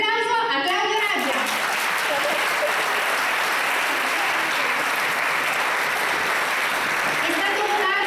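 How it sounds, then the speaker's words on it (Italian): Sustained audience applause at a festival award presentation, a dense steady wash of clapping lasting several seconds, with a voice speaking briefly at the start and end. "Un applauso a Claudio Raggia."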